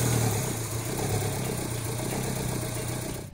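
A Daihatsu Cuore Avanzato TR-XX project car idles nearby, its small engine giving a steady, even rumble with a light throbbing pulse that stays constant throughout.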